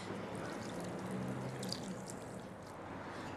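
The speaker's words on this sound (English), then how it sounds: "turn on your tap and just let it run to the hottest that it can get" Hot tap water runs steadily over rice noodles softening for spring rolls, a continuous close pouring and trickling wash with no talk.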